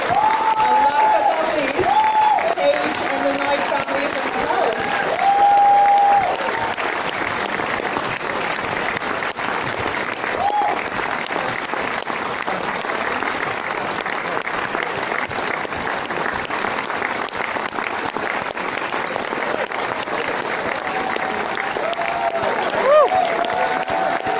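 An audience at a London film Q&A and meet-and-greet gives long, sustained applause, dense clapping that fills the room from start to finish, with brief cheers and voices rising above it now and then.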